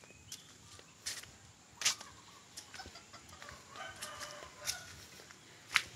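Chickens on a farm give a few sharp, short clucks and calls at intervals over a quiet outdoor background, fairly distant and soft, with no talk.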